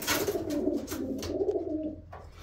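Homing pigeons coo in a steady, continuous low throaty rumble for a couple of seconds, close and fairly loud, with no talking.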